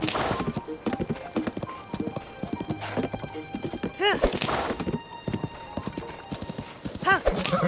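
Horse hooves clip-clop at a steady gallop through Zelda: Tears of the Kingdom, with a couple of whinnies around the middle and end, while a person talks over the hoofbeats.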